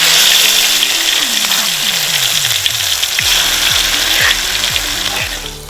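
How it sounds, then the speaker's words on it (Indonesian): Ground spice paste sautéing in hot oil for a Gunungkidul dish gives a loud, steady sizzle across the whole stretch, with scraping and stirring noises and a humming background tone underneath. "Pastikan minyak sudah panas, lalu tumis bumbu yang sudah dihaluskan."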